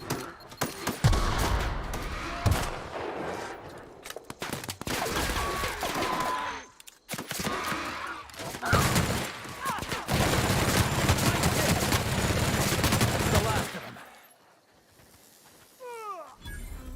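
Gunfire in The Outer Worlds comes in several dense bursts of rapid shots with hissing and clattering, broken by short pauses before fading out.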